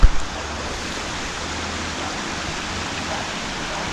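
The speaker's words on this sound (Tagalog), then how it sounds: "Ang ganda ng ilog." A clean river rushes past near a bridge, producing a steady broadband wash of flowing water, with a brief knock at the very start and no voices.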